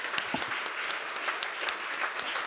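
A church congregation claps together in steady, moderately loud applause, a dense patter of hands with a few sharper individual claps standing out, sustained evenly throughout.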